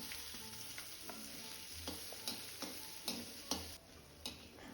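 Chopped onion fries in hot oil with a steady close sizzle, punctuated by regular scraping stirs at roughly half-second intervals.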